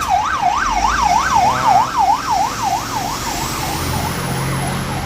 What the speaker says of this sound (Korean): 여기 보면은 다 소방차야. 구급차랑.